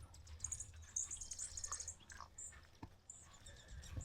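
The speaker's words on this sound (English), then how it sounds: "Birds are going crazy." Birds chirp and tweet faintly in a spring backyard, with high, scattered calls over low outdoor background noise and no talking.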